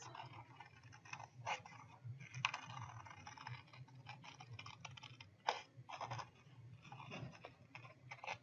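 Quiet, irregular snipping and rustling of scissors cutting through paper, close by, with short bursts separated by brief pauses.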